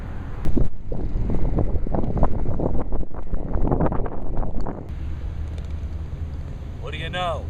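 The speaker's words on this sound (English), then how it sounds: "A little bit of wind here, so you'll probably be hearing that." Wind buffeting a microphone on a desert golf course, loud rumbling gusts for several seconds that then ease into a steadier, quieter rush, with a voice speaking briefly at the end.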